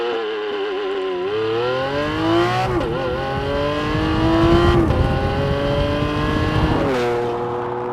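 A Lamborghini Countach pulls away hard, its engine note climbing through rising harmonics with two upshifts along the way, loud and close from the cabin with no talk.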